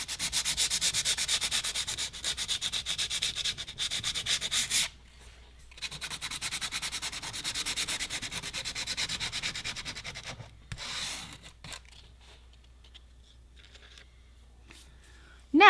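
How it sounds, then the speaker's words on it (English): Coarse sandpaper roughens the edges of black Delrin plastic, a close, steady back-and-forth scratching in quick rhythmic strokes with a brief pause midway and quieter, sparser rubbing toward the end. "First, we will roughen the edges with coarse sandpaper."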